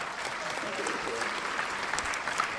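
Crowd applause at a 2021 interview with someone, a steady wash of clapping that holds at even strength for a few seconds, with faint voices mixed in.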